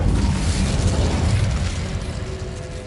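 Incendio fire spell cast in Hogwarts Legacy on PS5, a loud, sustained roaring burst of flame that rumbles broadly and eases off slightly over a few seconds.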